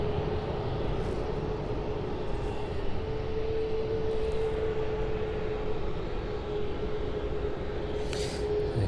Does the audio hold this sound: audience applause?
no